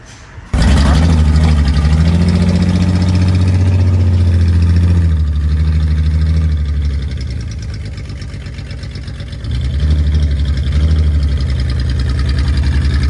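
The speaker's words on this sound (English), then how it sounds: "That's what it sounds like, open header" A custom rock crawler with open headers fires up and idles loudly and close by, a raw, throbbing exhaust note that holds steady, dips briefly, then swells again.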